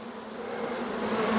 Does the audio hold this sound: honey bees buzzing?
yes